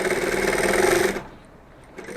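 A sewing machine stitches fabric in a slow, steady run for about a second, then stops and goes quiet before starting again briefly.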